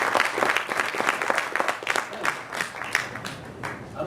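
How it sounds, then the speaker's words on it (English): Brief, lively applause from an audience greeting the performer Scarecrow Jones, with distinct claps in an uneven rhythm and a few voices mixed in. "please welcome, give a round of applause to Scarecrow Jones"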